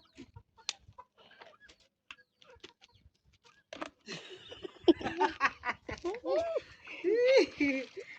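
Hens cluck and squawk close by in short rising bursts in a rural village, mixed with a voice and laughter, after a quieter stretch of scattered taps.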